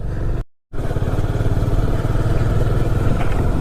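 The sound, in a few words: motorcycle riding on road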